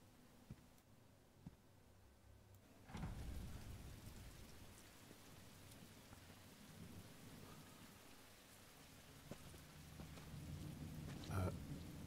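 Steady rain in the video game The Walking Dead: Michonne hisses and patters throughout, swelling suddenly after a few seconds, with a rumble of thunder and a few faint voices in the background.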